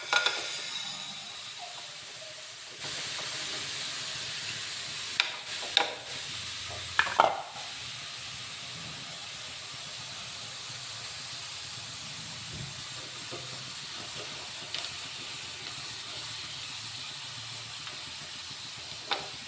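Ice hits a hot, burnt iron tava griddle and bursts into a loud, sustained steamy hiss. A few clattering knocks sound early on, then the hiss carries on steadily, close up and alone.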